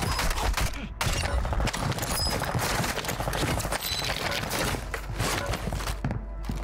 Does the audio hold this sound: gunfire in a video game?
yes